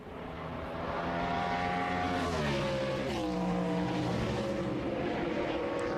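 NASCAR Nextel Cup stock cars race at Watkins Glen, their engines building into a loud, sustained roar as several cars rev and shift through a corner.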